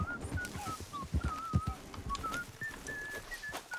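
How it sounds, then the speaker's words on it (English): Someone whistles a slow wandering tune in the video game Red Dead Redemption 2, clear and close over a rumbling backdrop of hoofbeats and game ambience. "Who's whistling?"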